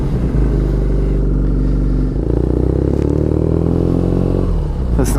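Steady, loud rumble of a 2019 BMW R nineT motorcycle engine fitted with a muffler, running continuously with a slight rise in revs partway through, heard up close.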